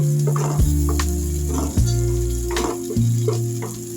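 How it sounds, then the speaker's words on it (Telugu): Capsicum frying in a pan with onions: a continuous sizzle punctuated by a few sharp stirring clatters, close and fairly loud, with a steady low hum underneath. "క్యాప్సికమ్ కూడా వేసుకుంటున్నా. బాగా ఫ్రై చేస్తానండి."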